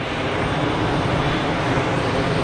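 An airliner on short final at Geneva Airport gives off a steady, loud, broadband engine roar that fills the whole clip without a break.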